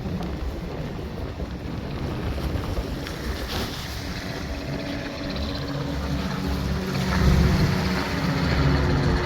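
Wind blowing steadily across an open campsite near water, a broad rushing roar with gusts and microphone buffeting that swell toward the end.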